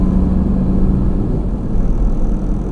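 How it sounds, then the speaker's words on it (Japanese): A car on MAXTREK AUTOWAY Chinese-made studless winter tires rolls onto an expressway, a loud steady low engine and road rumble heard from inside the cabin. "今から、 高速道路に乗ります。"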